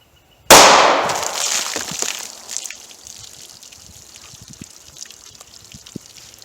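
A 9mm 124 grain +P Hornady American Gunner round fired into bologna and water jugs: one sharp, loud gunshot crack followed by splashing and trickling water as the impact dies away.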